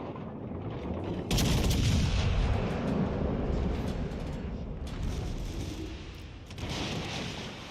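Heavy naval gunfire from warships in World of Warships Legends, with dense booming blasts and rumbling that swell loudly around the first few seconds and keep up a continuous roar through the clip.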